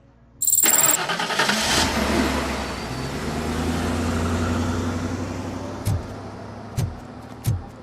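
A video game car engine cranks and starts with a sharp burst, then settles into a steady idling rumble, punctuated by a few brief knocks near the end.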